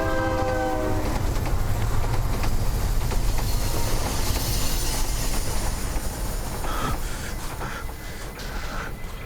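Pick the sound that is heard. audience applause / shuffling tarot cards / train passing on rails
train passing on rails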